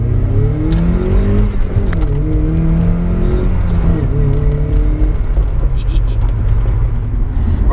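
A 2002 Mazda MX5 with a modified UK-spec 2.5 engine drives along, its engine note rising and shifting through several revs, loud and steady from inside the cabin, with voices talking over it.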